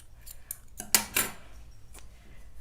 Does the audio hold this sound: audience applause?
no